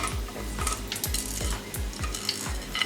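Whole spices for biryani roasting in hot oil: bay leaves, cinnamon sticks, cloves, black peppercorns, star anise and cumin. A steady sizzle runs under repeated metallic clinks of a spoon stirring in the pan.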